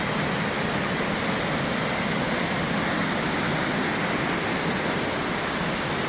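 Lumsdale Falls, a small waterfall, roars as a dense, steady rush of falling water that fills the whole stretch evenly and stays close and loud, with no voices.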